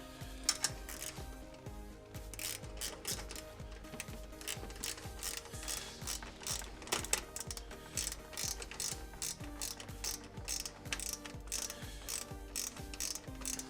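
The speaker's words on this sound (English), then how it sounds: "Actually, a wrench works best in there." A ratcheting wrench tightens clamps during an MTX Audio X3-17-THUNDER8 car audio installation, giving rapid, rhythmic clicking bursts heard close and repeated throughout.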